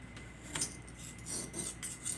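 Knife blade drawn across the fine side of a whetstone wetted with sharpening solution, a quiet rasping rub in short repeated strokes, close and soft with no talk.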